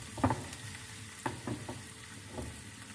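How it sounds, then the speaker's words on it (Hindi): Salt and chili roasting in a pan on normal heat for egg bhurji: a faint, quiet sizzle with a few soft stirring taps scattered through. "नमक मिर्च को हम 2 से 3 मिनट के लिए भून लेते हैं नॉर्मल आंच पे।"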